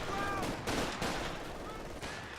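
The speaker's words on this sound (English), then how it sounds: "those mortars will make short work of them" Mortar and gunfire barrage in a 2v2 Company of Heroes 2 match, a continuous dense rumble of repeated blasts with a few sharp whistling tones near the start and end, played loudly throughout with no speech.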